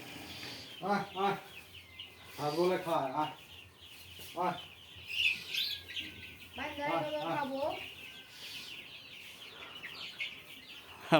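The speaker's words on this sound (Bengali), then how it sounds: "মানুষ দেখে ভয় পায় বাচ্চা বাচ্চা মুরগি" Small chicks peep and chirp in thin, high bursts, fairly close, with a person talking intermittently in between.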